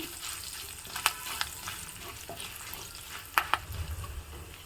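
Curry leaves sizzle steadily in hot oil in a pan, with a few sharp pops and crackles breaking through the soft hiss.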